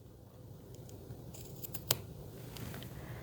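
Scissors trimming fabric bias tape for shaping quilt letters, a few quiet crisp snips clustered near the middle, with one sharper cut standing out against a soft room background.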